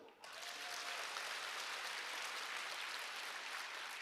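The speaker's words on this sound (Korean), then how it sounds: "박수" A seminar audience at a network marketing company event breaks into sustained applause, a dense steady wash of clapping that swells after a brief quiet start and holds loud and even throughout.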